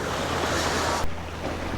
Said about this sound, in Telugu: ఈ వాటర్ అంతా వెళ్ళి అక్కడ నాకో లేక్లో కలుస్తున్నాయి